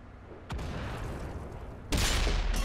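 A tank cannon shell striking a Tiger 2 in World of Tanks, a video game: two heavy, booming blasts about a second and a half apart, the second louder and followed by sustained rumble.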